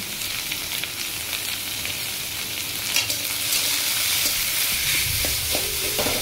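Spices with turmeric, salt and chilli powder sauté in a pan, sending up a dense, bright sizzle with scattered stirring scrapes that grows slightly louder toward the end; no one speaks.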